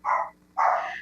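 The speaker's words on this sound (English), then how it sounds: "That's my dog." A dog barks twice in quick succession indoors during a city council meeting, each bark short, fairly close and loud, with a brief silent gap between them.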